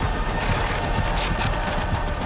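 A steady, loud roaring rush of noise holds for a couple of seconds: Vecna's attack charging up in Dead by Daylight.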